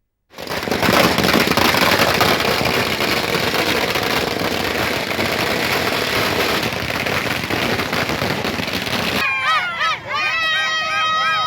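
Firecrackers burst in celebration among women beneficiaries of a Tamil Nadu welfare scheme, a loud dense crackling roar of rapid explosions sustained for most of the stretch before cutting off into bright whistling, warbling tones near the end.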